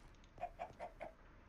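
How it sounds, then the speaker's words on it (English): A quartz chicken in modded Minecraft clucks softly four times in an even rhythm, faint against a low background hiss. "You have a quartz chicken."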